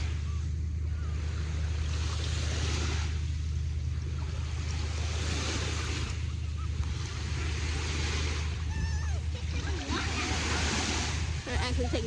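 Ocean waves at a summer beach roll in with a steady roar and periodic swells, mixed with wind buffeting the microphone; voices can be heard faintly in the background.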